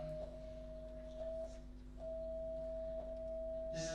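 A thin, steady electronic tone hums on one pitch with a low drone beneath, faint and continuous, briefly dropping out midway.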